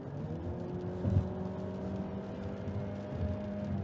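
Jeep engine revving under load while driving on a highway, a steady harmonic drone that rises slightly in pitch, with a brief louder surge near the start and continuous road noise throughout.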